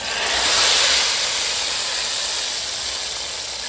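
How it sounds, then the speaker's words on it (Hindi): Onions sizzle in hot oil as a tempering for haleem, a loud, steady sizzle and hiss close up, swelling slightly at the start and then holding evenly. "अब मैं इसको प्याज का तड़का लगा रही हूँ"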